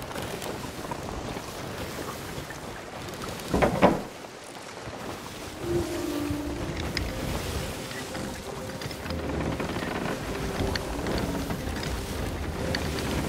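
Steady wind and rushing water around a sailing ship in the game Sea of Thieves, a continuous low roar with a brief louder gust partway through and faint tonal sounds beneath.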